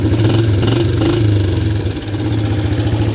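Engine of an LT125 Quadrunner ATV rumbling loud and steady at idle just after starting, a continuous low drone with slight unevenness and no talking.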